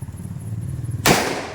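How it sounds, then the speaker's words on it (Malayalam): A single sharp firecracker bang bursts out after a second of low rumbling background, loud and close, with a brief noisy decay, during Vishu celebrations in Kerala. "എങ്ങനെ പൊട്ടി പടക്ക"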